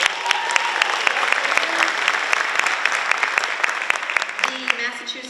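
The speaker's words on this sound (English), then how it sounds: "then we will have a round of applause" Audience at a high school senior awards night clapping for scholarship recipients, a sustained round of applause with distinct sharp individual claps standing out, fairly close and even throughout.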